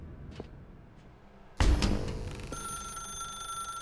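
A telephone starts ringing in The Stanley Parable Ultra Deluxe, a sudden loud, bright electronic ring that keeps sounding steadily after a quiet stretch with a few faint ticks.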